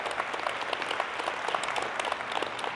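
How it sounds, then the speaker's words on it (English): Audience applause for a guest doctor, a brief, dense burst of many hands clapping steadily throughout, fairly close. "give Dr. Ovadia a big round of applause"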